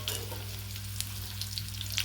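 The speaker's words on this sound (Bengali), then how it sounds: "আপনারা ছাঁকা তেলে এগুলোকে ভেজে নেবেন" Bitter gourd slices deep-frying in hot oil, a soft continuous sizzle with scattered crisp pops and crackles, heard close and alone over a low steady hum.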